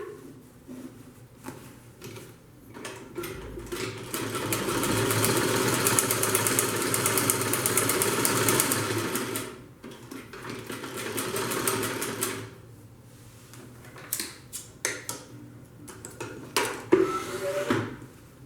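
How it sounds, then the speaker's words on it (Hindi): A sewing machine double-stitches the seams of a fabric handbag, whirring loudly in two long runs separated by a pause, with light clicks and handling knocks of the fabric and machine before and after. "इसे भी डबल सिलेंगे हम।"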